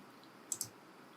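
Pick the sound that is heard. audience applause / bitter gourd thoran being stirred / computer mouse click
computer mouse click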